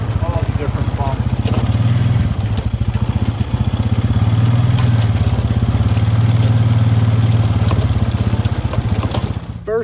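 Quad (ATV) engine pushing a three-wheeled giant magnet sweeper over bumpy grass, a loud, close, steady chugging engine drone with rattling clatter, running continuously for the full stretch before easing off at the end.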